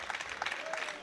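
Spanish spectators in an arena crowd at a European classic powerlifting championship cheering on a lifter, a quick burst of clapping and shouts under a faint commentary voice.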